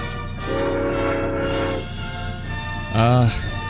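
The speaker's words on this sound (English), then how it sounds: "Jerry then goes to join Tom on the tracks, as the sound of an approaching train is heard coming towards them" Cartoon train approaching in a Tom and Jerry episode: a sustained horn-like whistle blast, a pause, then a second louder, rising whistle tone over a low rumbling background.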